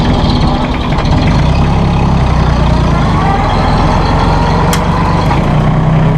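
Izeki diesel engine of a 2008 Massey Ferguson 1533 compact tractor running close by, a loud, steady low rumble throughout with no talking.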